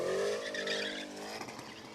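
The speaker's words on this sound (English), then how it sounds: "A little bit of rev limiter action." A drift car at an outdoor drift pit bounces off its rev limiter with a high, buzzing engine note. Tire squeal follows as the note fades, and the car is heard from a moderate distance.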